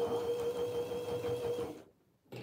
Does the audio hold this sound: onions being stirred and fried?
no